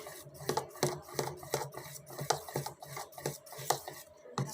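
Garlic paste being stirred into oats dosa batter, a spoon repeatedly scraping and clinking against a metal bowl in an uneven rhythm, close and fairly quiet, with no talking.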